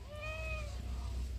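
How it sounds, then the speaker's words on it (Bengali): A cat gives one clear, fairly close meow, rising and then falling, over a low background hum. "ম্যাও"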